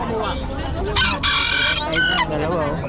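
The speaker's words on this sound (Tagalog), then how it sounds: "Gandang manok yan" A rooster crows loudly and close by in a two-part call, amid a gamefowl sale with a buyer and seller. Background voices and ambient noise continue beneath the call.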